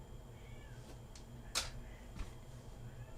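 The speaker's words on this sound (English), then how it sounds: "The cat's meowing behind me, great." A cat meows faintly in the background of a quiet room, a couple of soft short calls, with a sharp brief tap in between.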